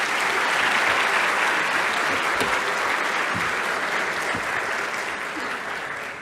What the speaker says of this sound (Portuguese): Então, salva de palmas para a Carissa.